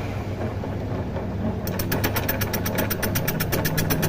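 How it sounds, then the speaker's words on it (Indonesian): Router machine trimming the tail of a carbon liner for a Kawasaki KLX, a steady motor drone that turns into a rapid rhythmic chattering cut partway through, loud and close with no talk. "Ini kita kerjakan semua dengan mesin kolter."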